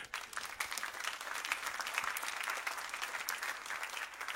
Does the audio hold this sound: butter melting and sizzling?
no